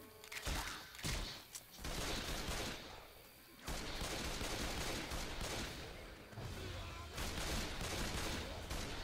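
Rapid bursts of automatic gunfire from a zombie shooter, Left 4 Dead 2, in a swamp level, loud and dense with short pauses between volleys and a player's voice occasionally breaking through.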